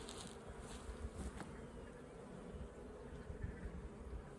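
Honey bees swarming a hive after nearly a week of pollen flow, a dense, steady buzzing drone that fills the whole clip, close and continuous with no voices.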